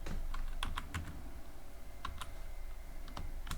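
Python code is typed on a computer keyboard in uneven bursts of crisp, close keystrokes with short pauses between clusters.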